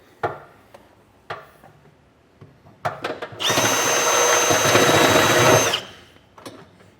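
A power drill bores through a pickup truck bed from the top down while installing a B&W Turnoverball underbed gooseneck hitch, a loud steady whine of about two seconds following several sharp knocks and clanks.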